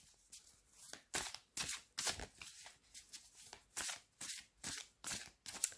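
A deck of oracle cards is shuffled by hand, close up. About a dozen crisp riffles and snaps come in a quick, even rhythm with brief pauses between them.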